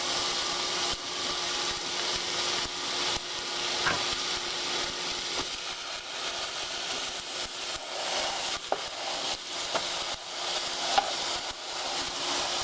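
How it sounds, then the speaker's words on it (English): A ground turkey burger patty fries in a skillet and is pressed flat with a spatula, giving a continuous loud sizzle with occasional small scrapes and taps and no voices. "You want to flatten it out with your spatula."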